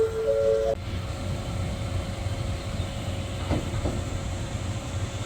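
A Nankai limited express train bound for Namba pulls into a station, heard as a steady low rumble with faint clatter, and a short tone sounds at the start.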